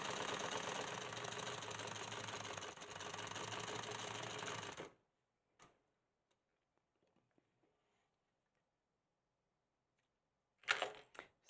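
A home sewing machine runs steadily with a dense, rapid stitching chatter for about five seconds, then stops, leaving near silence broken by faint clicks before a brief burst of machine noise returns at the end.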